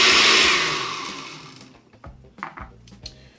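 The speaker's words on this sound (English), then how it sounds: "we're going to blend it one more time" A kitchen blender runs loud at first, whirring through fermented hot sauce, then winds down and stops after about a second and a half, leaving a few faint clicks and knocks.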